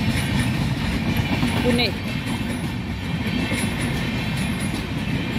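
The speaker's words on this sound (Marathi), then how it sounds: "इकडची काय आली, सिंहगड एक्सप्रेस" The Sinhagad Express passes at a railway crossing near Pune, a steady rumbling roll of wagons heard nearby under outdoor noise while someone talks over it.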